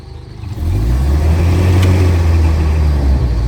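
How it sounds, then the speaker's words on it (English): A Land Rover Series 1 engine, not long warmed up, revs from a lower idle into a loud, sustained high rev that holds steady at close range, with no voices. "You can actually rev the car just with that, which is pretty cool, more like an aircraft than a car."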